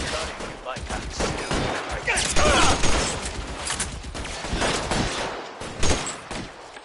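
Rapid gunfire from a shootout in the L.A. Noire video game, dense overlapping bursts of shots continuing throughout, with game voices shouting beneath the shooting.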